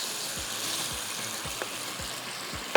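Minced meat (qeema) frying in a karahi, a steady close sizzle with a few soft scraping stirs and a sharp clink at the end.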